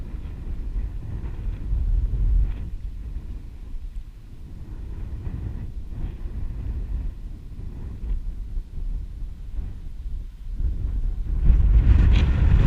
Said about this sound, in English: that wind's getting up too. It's a bit gusty now